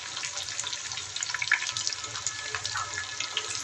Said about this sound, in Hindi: साथ में डालेंगे थोड़ा सा पानी